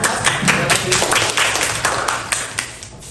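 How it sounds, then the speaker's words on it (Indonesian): Classroom applause for a presenting student group, a handful of people clapping close and fairly loud in a brisk, uneven burst lasting about three seconds. "Beri tepuk tangan untuk kelompok"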